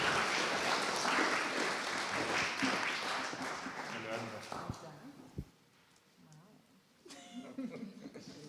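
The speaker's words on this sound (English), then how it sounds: "Please welcome with applause Katriin Reedo on the stage" Applause from an audience welcoming a fellowship winner to the stage at a women-in-science awards ceremony, loud at first, then thinning into scattered claps and fading into quieter room sounds and brief stage noise.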